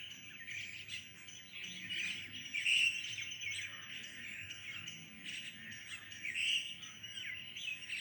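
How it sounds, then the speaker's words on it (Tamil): Myna birds chirping in a home garden, a steady stream of bright overlapping calls and tweets with faint insect buzz underneath, moderately near and continuous throughout. "கீழே மைனா பறித்து சாப்பிட்டுக்கிட்டே இருப்பாங்க."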